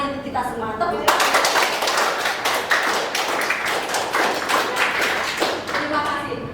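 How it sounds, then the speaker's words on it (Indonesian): Teachers in a workshop clap together in a burst of applause lasting several seconds, dense and steady, with speech heard faintly before and after. "Tepuk tangan."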